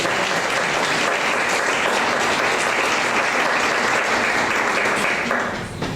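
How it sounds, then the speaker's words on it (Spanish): An audience at a book presentation breaks into sustained, loud applause, a thick wash of many hands clapping evenly before tapering off at the very end. "Un aplauso."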